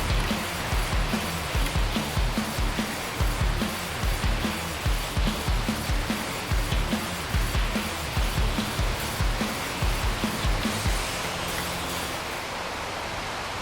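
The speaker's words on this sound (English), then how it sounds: "out of freaking nowhere, this crazy rainstorm comes" Heavy rainstorm pouring down outside a workshop, a dense, loud, continuous hiss of rain with rumbling low-end pulses throughout, no voices heard.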